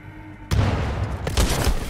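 A frag grenade blows up in the shooter game Titanfall 2, a sudden loud booming blast after a quiet moment, followed by a rumbling tail and a second crackling burst.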